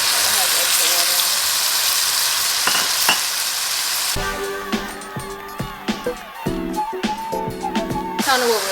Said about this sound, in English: as soon as you add that, you should hear a sizzle.